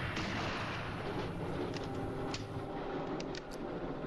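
Gunfire aimed at a train in the horror film Horror Express, scattered sharp shots over a steady rumbling background, moderately loud, with no talk.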